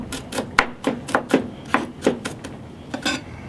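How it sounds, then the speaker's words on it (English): A knife chops food on a cutting board in a quick run of about a dozen sharp, woody knocks in an uneven rhythm, close and fairly loud, with no talking. "Chop it up, not too fine, just, you don't want it too chunky either"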